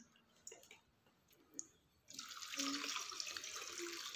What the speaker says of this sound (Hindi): अब आलूओं को हम पानी से निकाल लेते हैं और एक बार इन्हें फिर से साफ पानी से धो